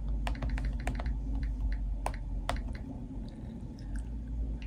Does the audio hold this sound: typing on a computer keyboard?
yes